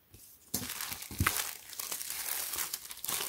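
Close, dense crinkling and rustling of plastic packaging wrapped around a Supreme x Leigh Bowery black T-shirt, a brief hush at the start before steady crackling handling sounds continue without pause.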